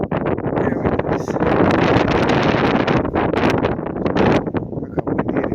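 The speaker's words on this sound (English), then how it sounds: "Look how windy it is." Strong wind blows at Joshua Tree on a cold December day, a loud, continuous gusty roar buffeting the microphone throughout.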